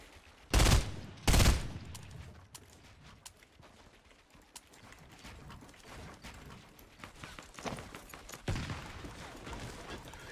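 Gunfire in the Fortnite video game: two loud close shots burst out near the start, followed by scattered fainter clatter and softer pops over a steady background.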